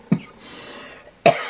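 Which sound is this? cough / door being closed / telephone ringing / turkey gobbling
cough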